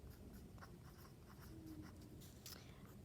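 Pen or pastel strokes scratching across a sheet of paper as labels are written for a pastel color wheel, a steady run of soft, close scratchy marks with brief pauses.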